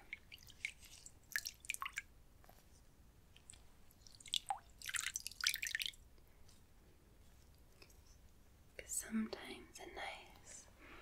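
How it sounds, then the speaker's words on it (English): Warm water drips and trickles softly as a face towel is soaked for a close, quiet ASMR bedtime scene, with gentle squishy wet sounds in short bursts and a few faint whispers in between. "with warm water, and I'm going to gently soak your face"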